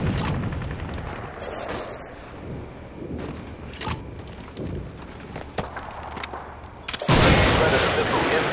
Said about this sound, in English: Oh, stun grenade.